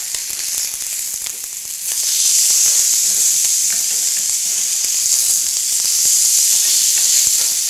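Sirloin steaks about 2.5 centimetres thick sizzle steadily in a hot pan, a loud, continuous frying hiss that swells slightly after the first couple of seconds and carries on without pause.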